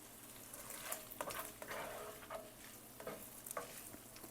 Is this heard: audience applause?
no